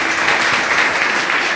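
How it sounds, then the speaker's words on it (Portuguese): A church congregation claps their hands hard in praise, dense steady applause filling the room for a short burst with no talking over it. "Louve a Deus com as suas palmas bem forte"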